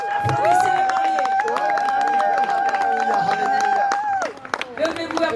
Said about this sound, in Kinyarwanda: Levez-vous, applaudissez les mariés.